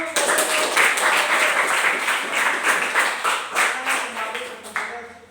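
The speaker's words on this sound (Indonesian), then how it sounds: "kita beri aplaus untuk" A classroom audience breaks into dense, sustained applause after a group presentation, many hands clapping loudly together for about five seconds before the clapping thins and fades at the end.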